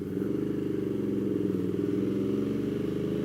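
A Ducati Multistrada motorcycle engine pulls hard in second gear with a steady, loud, close droning growl that holds throughout.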